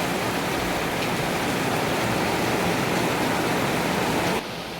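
Heavy rain falls in a steady, dense, hissing roar close by, holding constant before dropping off abruptly near the end.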